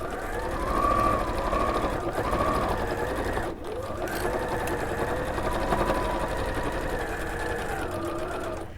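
A sewing machine stitches steadily through two layers of fabric, a loud, close, continuous motor hum with a rapid needle rhythm and one short pause partway through.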